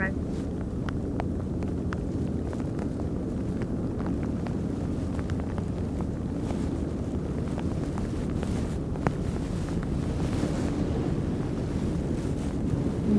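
Steady wind with light rain at Aberdeen Harbour, a continuous broad rushing wash with faint scattered ticks, fairly loud and unbroken throughout.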